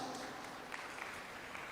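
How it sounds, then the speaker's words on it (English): A short burst of scattered applause from the crowd at a convocation ceremony, moderately quiet and steady with a few sharper claps standing out. "Let us applaud them all."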